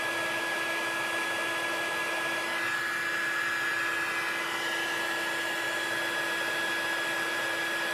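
A heat tool used to melt embossing powder on a card gives a steady, even whir with an airy hiss, running continuously at close range without a break.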